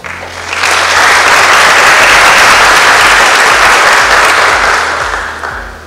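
A conference audience applauds a speaker coming on stage. The loud, dense clapping from many hands swells in quickly, holds strong and then tapers off toward the end.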